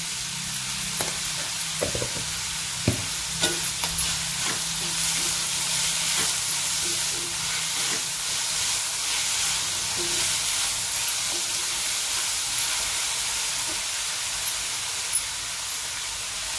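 Onion and tomato roasting together in a pan with salt added, giving a steady, close frying sizzle and hiss throughout, with a few light clinks of stirring near the start and no voices.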